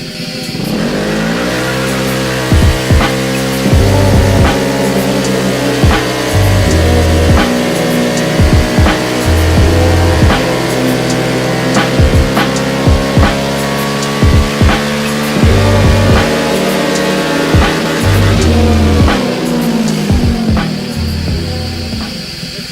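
A Honda ADV150 scooter with a Yuminashi PGM-FI and variator upgrade is revved hard on a dyno, its engine loud and close, climbing and holding high in long sustained pulls.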